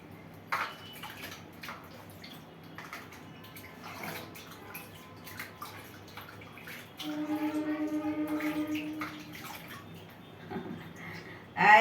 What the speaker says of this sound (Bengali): হ্যাঁ আমি চান করছি